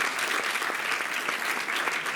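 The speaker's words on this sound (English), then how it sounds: "So a round of applause for him." An audience at an Aradhana Day celebration claps in a dense, steady round of applause that holds evenly for a couple of seconds.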